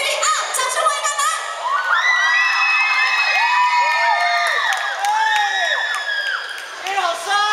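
A crowd at a national high-school street dance competition final shouts, screams and cheers loudly for a mixed dance team. The sound is dense, high-pitched and continuous, with only light clapping underneath.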